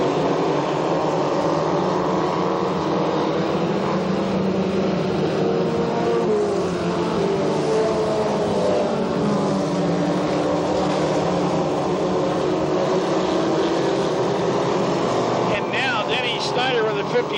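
Race cars roar around the Path Valley dirt track in a 1992 feature, engines droning and revving continuously in a dense pack, with an announcer talking over them throughout.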